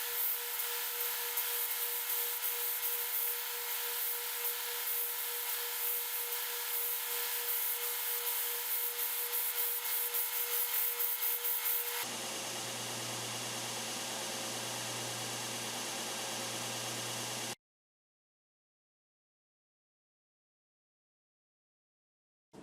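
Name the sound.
edge sander sanding wood disc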